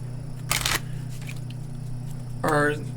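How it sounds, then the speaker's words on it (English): A deck of trading cards is shuffled in two short, crisp bursts about two seconds apart, with a steady low hum underneath. "And then shuffle your decks."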